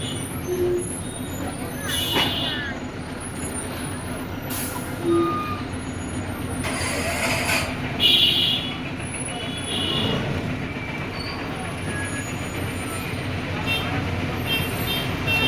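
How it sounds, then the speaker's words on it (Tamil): Container trucks rolling on a highway ahead on a long road trip from Pondicherry to Gujarat, a continuous low engine rumble with bursts of air-brake hiss and horn toots, and people talking in the cabin. "நமக்கு முன்னாடி ரெண்டு கண்டெய்னர் போகுது கண்டெய்னர் வண்டி அப்படியே போயிட வேண்டியதுதான்"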